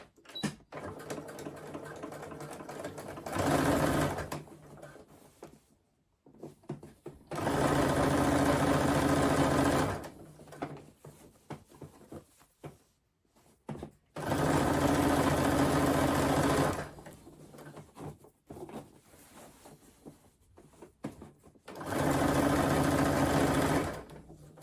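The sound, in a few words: sewing machine stitching a crossbody bag lining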